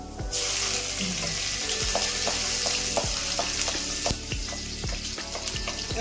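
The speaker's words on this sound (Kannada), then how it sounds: "ಇವಾಗ ಒಂದು 2 ಇಂಚಷ್ಟು ಶುಂಠಿ ಕಟ್ ಮಾಡಿ ಇಟ್ಕೊಂಡಿದ್ದೀನಿ, ಅದನ್ನು ಹಾಕ್ಕೊತಾ ಇದ್ದೀನಿ." Ginger and garlic frying in oil for a brinjal chutney, giving a bright continuous sizzle that starts abruptly as the ginger goes in, with regular spoon knocks against the pan repeating about every half second, close and without speech.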